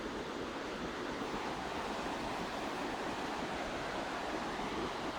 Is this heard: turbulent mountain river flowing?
yes